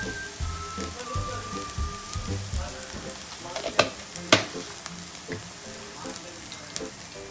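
Chicken kharda sizzles and crackles in a pan as it is stirred and sautéed, with a steady frying hiss broken by a few sharp utensil scrapes and taps.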